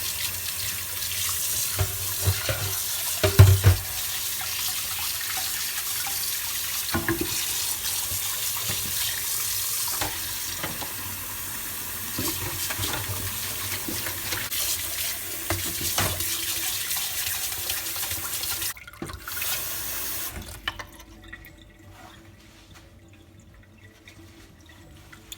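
Tap water runs steadily into a pot being cleaned after making semolina fufu, a close continuous splashing stream that stops abruptly near the end, leaving near silence.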